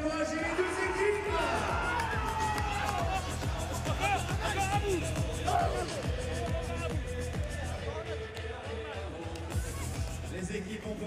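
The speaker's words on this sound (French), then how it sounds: "Merci d'applaudir et d'encourager les deux équipes." Arena crowd at a Judo Pro League Final Four semi-final between USO Judo and SGS Judo cheering, whooping and clapping for both teams, a dense steady roar with rhythmic claps and voices throughout.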